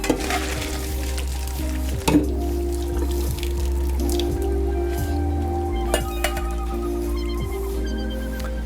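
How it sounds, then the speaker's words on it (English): Cooked penne pasta being strained, with water dripping and sloshing and occasional clinks of metal through a steady low background hum, the pouring sounds fairly close. "I'm just gonna go ahead and strain this."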